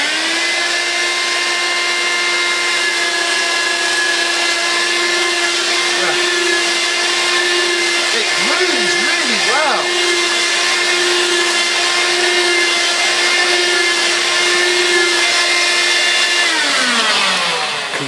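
A vacuum cleaner runs on carpet with a loud, steady motor whine and whooshing airflow, held for a long stretch before it winds down and stops near the end.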